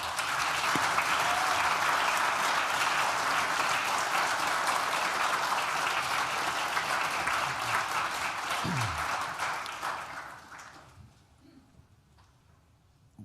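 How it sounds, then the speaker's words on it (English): Graduates at a Nottingham Business School graduation ceremony applaud their friends and family, a dense, sustained roar of clapping filling a large hall for about ten seconds before dying away into quiet. "do a round of applause for the friends and family members who've supported them on the journey"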